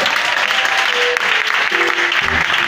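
A church congregation applauds and cheers during a sermon, dense and loud clapping that fills the whole stretch with a few voices mixed in.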